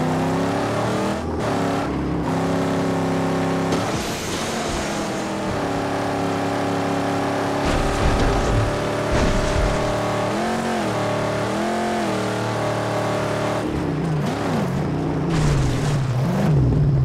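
A car engine drones in the post-apocalyptic driving game Mad Max. It is loud and close throughout, with the pitch rising and falling as the engine revs and shifts.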